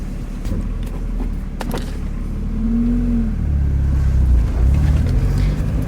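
A 1995 Mazda Miata NA on a test drive, engine droning low with road rumble, revving up and shifting midway as the car accelerates, steady and fairly close, no talking.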